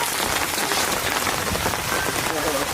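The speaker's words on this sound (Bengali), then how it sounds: "আবার ঝমঝম করে বৃষ্টি চলে এলো।" Heavy rain pours down steadily in a dense, even hiss of drops striking surfaces, continuous and close throughout with no pauses.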